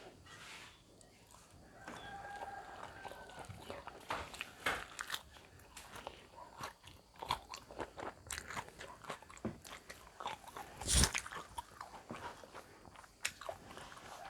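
Someone eats a northern Thai pounded-eggplant dish with rice, making close, irregular bites and crunchy chewing across the whole stretch, with a few louder crunches and faint background voices.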